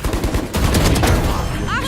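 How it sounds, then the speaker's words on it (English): Gunfire in Valorant, a loud rapid burst of shots packed close together in under two seconds, with a voice over it. "I shot somebody."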